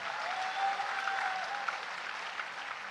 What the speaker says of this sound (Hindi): उनके लिए ताली बजाइए जोरदार